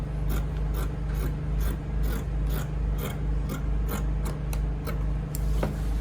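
Scissors snip repeatedly through headband fabric, close and crisp, with quick rhythmic cuts over a low steady background hum and no talking.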